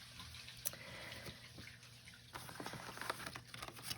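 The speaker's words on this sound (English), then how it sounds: "the water pipe is right here, so you can kind of sometimes hear the water going down" Laundry water draining down a basement water pipe, a faint trickling and dripping patter with soft splashes, low and continuous in a quiet room.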